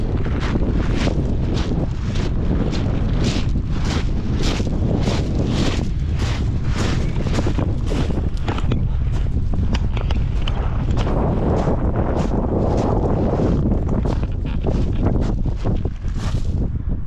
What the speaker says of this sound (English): It's getting windy now, a bit cooler up here actually, it's nice, good breeze.